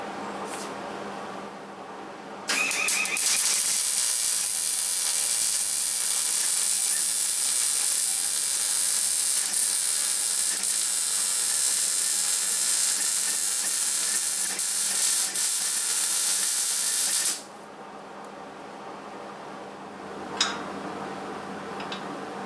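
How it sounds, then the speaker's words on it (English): Welding on the tops of truck frame pipes during a front clip swap produces a loud, steady crackling hiss that starts abruptly, runs about fifteen seconds, and stops sharply, leaving quiet background and a single tap. "you'll see me welding the tops of these pipes"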